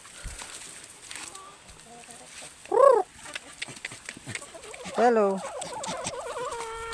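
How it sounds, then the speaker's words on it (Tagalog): Free range chickens roaming a wooded farm give two short, clear clucking calls close by, set against a quiet outdoor background while a person talks in between. "Free range chicken."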